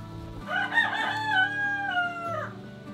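Backyard chickens call out as someone approaches, with one drawn-out rooster-like crow rising and falling over a few seconds, close and clear, with no talking.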